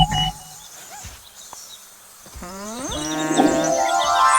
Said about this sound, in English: It's a cow. C is for cow.